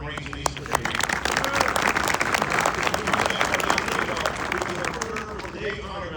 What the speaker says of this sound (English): Ladies and gentlemen, please round of applause for our Marines in the Eastern Recruiting